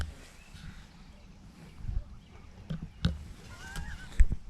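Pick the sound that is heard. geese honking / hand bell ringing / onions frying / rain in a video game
geese honking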